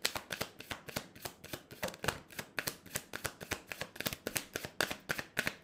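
A deck of cards is shuffled and drawn in a rapid run of crisp, snapping riffles and flicks, close and steady throughout, with no voices over it.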